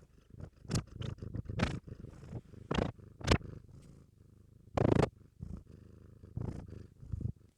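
A pet cat purring close up, with a soft rhythmic rumble broken by louder snuffly breaths and brief bursts, and no talk.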